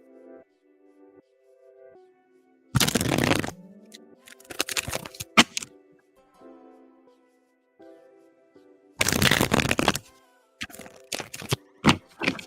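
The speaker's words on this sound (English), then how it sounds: "hold on one second while I shuffle" Tarot cards shuffled during a live reading, heard as two loud bursts of riffling and snapping cards separated by quieter handling clicks, over soft background music.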